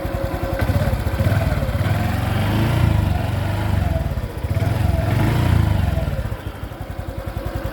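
A new 2023 Honda Wave 110i motorcycle with a 110cc fuel-injected engine, freshly fuelled and test-run before delivery, idles steadily close by with a fast, even putter that swells and eases slightly, alone without voices.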